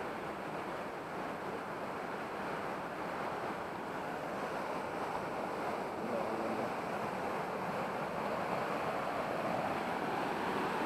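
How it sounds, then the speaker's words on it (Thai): A loud, steady roar of rushing water fills the air continuously, broad and unbroken, like a waterfall close by, with no voices, at Huai Khun Thoen waterfall in a forest in Noen Maprang, Phitsanulok, Thailand. "เสียงน้ำตกจะดังไปหน่อยนะ"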